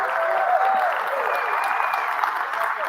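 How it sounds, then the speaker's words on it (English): Steady, full applause from a TEDx audience greets a performer coming on stage, dense and continuous throughout, with faint cheers threaded through the clapping. "Give her a round of applause as she comes to the stage"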